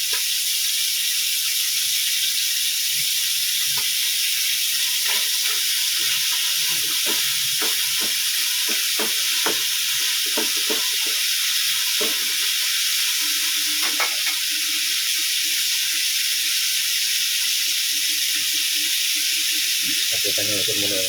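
Steam hisses from a pot on a kitchen stove as pork loin steak and sinigang with calamansi cook, a loud, continuous broadband hiss with scattered clinks and taps throughout.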